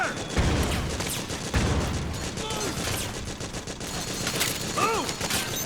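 Gunfire in Metal Gear Solid 4 pops in a few sharp shots early on, then softer crackle beneath shouted soldier voices and game ambience.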